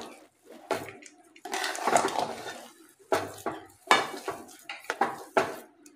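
A spoon stirs sugar into sheera, sweet semolina prasad, in a metal pan, making intermittent scraping and clinking bursts with short pauses between strokes, close and fairly loud, no talking.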